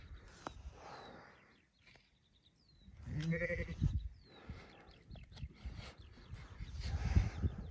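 Sheep bleat outdoors in a grassy field, one loud wavering bleat standing out midway among scattered fainter animal calls, bird caws and rustling background noise.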